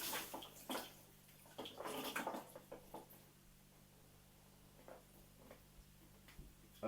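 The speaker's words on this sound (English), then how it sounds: "one thing you always make sure you do with chickpeas is drain the water off" Water drained off canned chickpeas in a home kitchen, heard as irregular close splashes and pattering trickles with quiet pauses between bursts.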